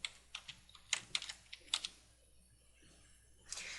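Short run of computer keyboard typing as column labels are entered, about a dozen close, crisp keystrokes in irregular rhythm, then a quiet pause and one last soft click burst.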